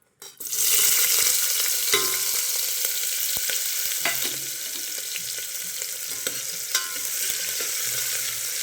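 Onions and green chillies hitting hot oil in a pan for mutton sambar, a loud sizzle bursting in at once and holding steady with scraping stirs, no voices.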